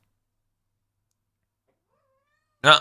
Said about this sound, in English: And the cat is back.